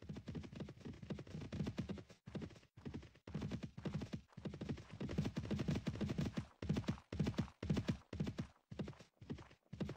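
Horse hooves clip-clop in a steady, rapid galloping rhythm as a rider travels in the video game Mount & Blade: Warband. The hoofbeats are heard alone and fairly quiet, with occasional brief pauses.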